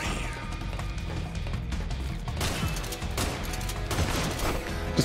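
Shotgun blasts in Metal Gear Solid 4 during a boss fight, a rapid chaotic mix of loud bangs, crashes and impacts repeating over several seconds amid busy combat noise.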